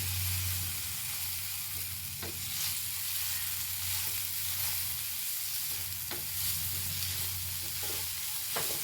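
Kothu chapati seasoned with Kashmiri chili powder fries in a pan with a soft, steady sizzle, occasional stirring scrapes breaking through, and a low hum underneath.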